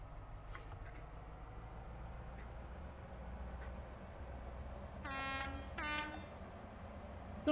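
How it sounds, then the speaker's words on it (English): Two loud horn blasts from an HST train in Train Sim World 4 on the Fife Circle, each a sustained harmonic tone, heard over steady low engine rumble. "I don't know if the horn's changed or not."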